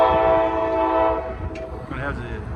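A passing freight train sounds a long, loud multi-tone horn salute at a railway wye junction, then the horn cuts off, leaving rumbling railcars and a brief sharp squeal.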